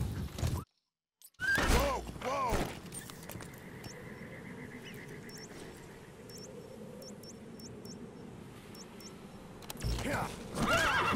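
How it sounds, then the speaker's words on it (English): A horse in the video game Metal Gear Solid V whinnies loudly, with hooves clip-clopping at a steady pace and faint game beeps and ambient noise underneath after a brief dropout near the start. "So obviously we're on a horse and only so far we can move."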